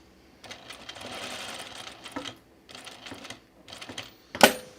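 A sewing machine stay-stitching dress fabric runs in short bursts of rapid whirring stitches separated by pauses, ending with a sharp click.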